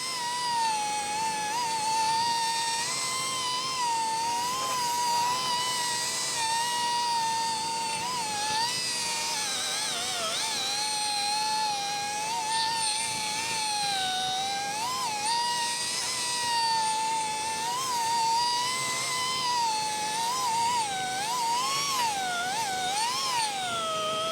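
Stainless steel being buffed with polishing paste toward a mirror finish: a steady, loud, high-pitched whine of a rotary buffer that wavers in pitch as pressure changes, running continuously without talk.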